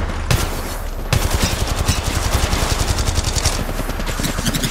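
Rapid automatic gunfire from Apex Legends Mobile, with dense bursts of repeated shots in a fast, steady rhythm, loud and close, almost without pause after a brief lull at the start.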